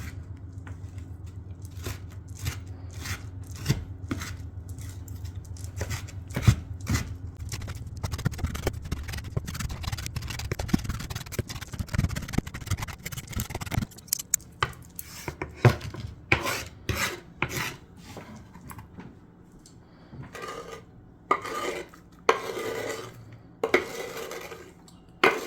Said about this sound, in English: I'm gonna take 2 tablespoons of sugar and then a nice sharp knife. And we're gonna just chop